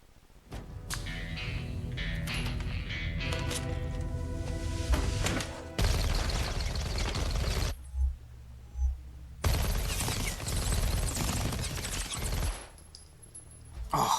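Sustained bursts of machine gun fire in an action movie scene from Transporter 2, dense and loud, broken by brief pauses and a few isolated thuds before the rapid firing resumes.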